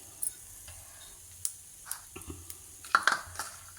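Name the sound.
Madurai curry dosa sizzling on the pan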